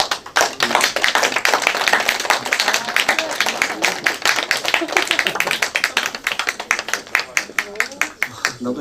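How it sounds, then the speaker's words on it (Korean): A church congregation at a Sunday worship service claps during a gift presentation, steady rhythmic hand claps close and loud throughout, with some voices mixed in beneath. "자, 우리 박수로 선물을"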